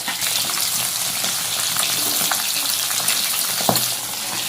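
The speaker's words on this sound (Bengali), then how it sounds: "আর ওদিকে উচ্ছে ভাজা হচ্ছে" Bitter gourd frying in a pan, a steady dense sizzle with occasional stirring scrapes and small pops, continuous and close throughout, with no voices.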